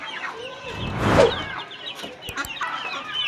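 Chickens, including desi and aseel breeds, cluck nearby while a rooster calls loudly, with scattered bird chatter around them in an open family farmyard after rain.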